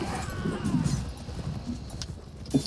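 Cavalry horse hooves clatter and thud in a busy, rumbling rush during a video game battle charge, with scattered voices and battle noise mixed in.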